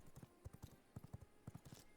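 Galloping horse hooves in the vampire survival game V Rising, a steady run of sharp, close hoofbeats falling in quick pairs and triplets throughout, fairly faint in level and with no talking over them.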